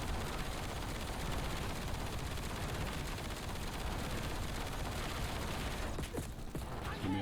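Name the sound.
gunfire shooting sentry gun turrets in Black Ops 7 video game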